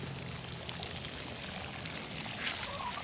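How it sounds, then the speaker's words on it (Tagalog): Water gushing more strongly in a backyard vegetable garden, a continuous broadband rush with a pouring, splashing texture, fairly close and steady for about three seconds, with no talk over it. "Ayun, lumakas yung tubig dito."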